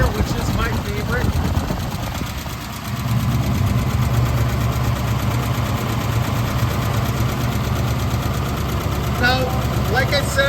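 A 1952 Ford F-1 pickup with a 6-volt system and three-speed manual transmission idles steadily nearby, a low continuous rumble that holds even throughout, with faint voices under it.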